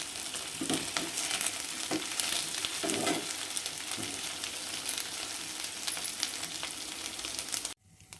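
Sliced colocasia (taro root) roasting in a pan on a low flame gives a steady, close sizzle and crackle with soft stirring scrapes, then cuts off abruptly near the end.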